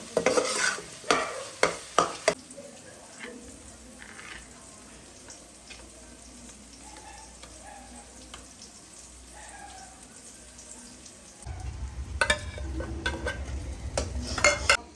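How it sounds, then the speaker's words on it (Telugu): Masala for a tuna dish being stirred and fried in a pan, with scraping, clinking spoon strokes and a steady sizzle that swells louder near the end, no talking. "ఇది పచ్చి స్మెల్ పోయేంత వరకు వేసుకోవాలి."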